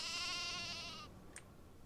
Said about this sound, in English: Sheep! Sheep! I must chase the sheep.